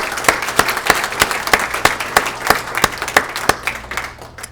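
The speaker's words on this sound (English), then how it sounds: "I'm going to give you a round of applause for taking the time" Steady applause from an audience at a Hall of Fame induction ceremony, many hands clapping in a loud, continuous patter with no voices over it.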